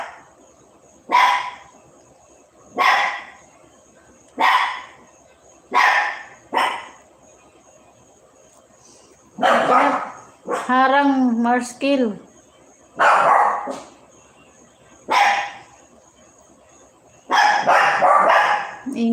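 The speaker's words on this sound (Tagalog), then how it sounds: "Ingay ng mga aso." Dogs bark repeatedly and fairly close, in separate sharp bursts with short pauses between them. A longer whining, howling stretch comes in the middle, and a voice speaks briefly.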